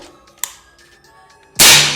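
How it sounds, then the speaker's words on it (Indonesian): A sharp crack of a PCP air rifle shot, followed by a loud burst of hissing air that fades slowly; a faint snap sounds earlier. "Kita coba di 10 kali tembakan ya guys ya"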